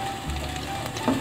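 Sautéing in a pan for a quick chicken curry gives a soft, steady sizzle with faint stirring clicks, brief and low in level, with no talk.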